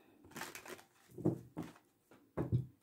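Tarot cards shuffled by hand in several short bursts of riffling and crackling, fairly close and quiet, with pauses between each shuffle.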